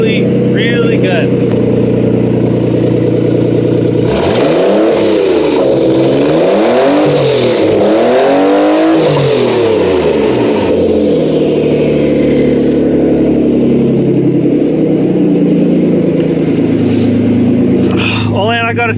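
A loud, raspy turbocharged Nissan 300ZX engine, running with only a downpipe and no exhaust, revs up and down in repeated surges, then settles into a rough, throaty idle close by.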